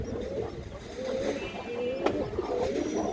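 A Khori-gola female pigeon coos softly, with low murmuring calls running steadily and close throughout, one brief sharper click near the middle, no voices.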